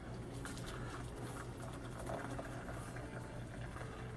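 Water boils steadily in a pot, a faint continuous bubbling and patter with no change in level throughout.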